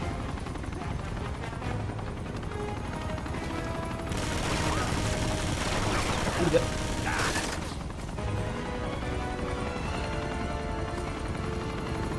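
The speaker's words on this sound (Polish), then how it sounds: "Parę strzałów" Gunfire in the video game Uncharted 2, a burst of loud crackling shots and noisy blasts in the middle of a steady game soundscape with music and mechanical hum.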